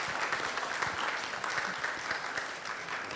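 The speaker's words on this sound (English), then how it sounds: "Let's give him a round of applause" Audience applause at a startup accelerator demo day, a steady dense clapping from a crowd that carries on without a break for a few seconds.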